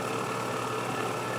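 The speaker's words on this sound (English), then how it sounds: "Foster bits over on the drill press." A drill press bores holes with Forstner bits in wood while an old wooden mallet is rebuilt: a steady, dense motor whir with a grinding cutting noise, continuous and fairly loud throughout, with no talk.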